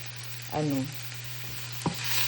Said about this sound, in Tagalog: Halo-halo lang tayo hanggang mag-brown yung mga sibuyas, saka bawang, saka ginger.